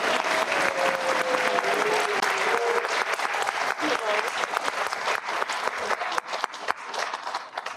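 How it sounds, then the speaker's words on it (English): Dense, sustained applause from a crowd at a school district Board of Education meeting honoring the 2023 Teacher of the Year, steady and loud throughout with a faint voice-like tone early on. "I'm sure the crowd's going to cheer for you along each way."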